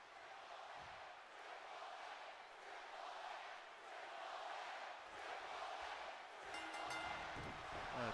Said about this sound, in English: Crowd a little one-sided here, cheering for Triple H.